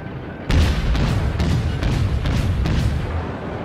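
Naval guns firing in the World of Warships video game, a sudden loud boom followed by a dense rumbling barrage with repeated low blasts and a few sharper cracks, sustained and close with no talking.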